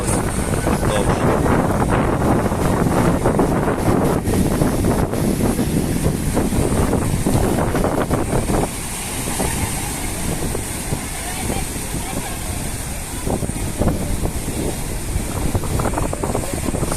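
Strong wind buffets the microphone over large surging sea waves along a waterfront in Alexandria, Egypt, with a voice speaking intermittently.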